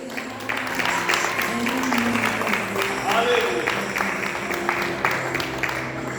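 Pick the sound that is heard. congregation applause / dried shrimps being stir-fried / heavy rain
congregation applause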